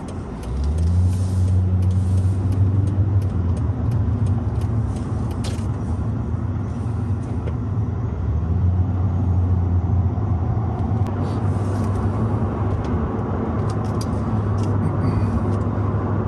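A 2001 Mercedes-Benz SL 500 R129 roadster, rear-wheel drive, on the move, its engine a steady low drone with a gear change partway through, loud and continuous with road noise and no talk.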